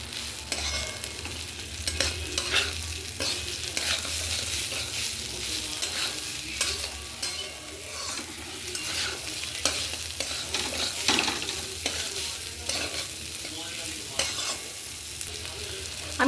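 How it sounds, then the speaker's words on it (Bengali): Rice frying in a pan with salt and turmeric, stirred continuously with a spoon that scrapes and clicks over a steady dry sizzle; close and moderately loud, with no talking throughout. "এবার আমি স্বাদ মতো নুন আর হলুদ দিয়ে দিলাম, দিয়ে ভালো করে চালটাকে ভাজা ভাজা করে নেব।"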